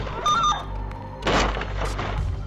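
Cars crash at an intersection with a flashing signal, heard in a dashcam recording as one sudden loud crunching impact with a brief clattering burst over a steady low road and engine rumble.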